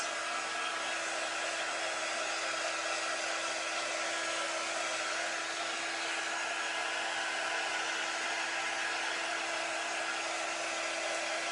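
Steady, loud whoosh of a heat tool blowing hot air to warm wax on a wooden board, a constant airy roar with a faint electric hum, running alone without pause.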